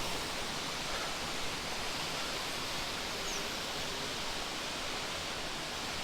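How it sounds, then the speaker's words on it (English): A waterfall on the Pennine Way between Hawes and Keld, with only a small amount of water coming down, makes a steady, even rushing hiss close by with no other sounds. "not a massive amount of water coming down today"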